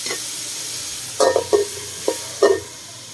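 Pork binagoongan sizzles and fries in a pan while a utensil stirs it in several short, close scraping strokes over a quiet steady crackle, with no talk.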